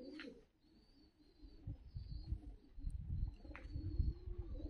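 Fighting pigeons coo softly in a loft in Tbilisi, Georgia, with low throaty rolling calls repeating close by, plus a few faint chirps and some rustling.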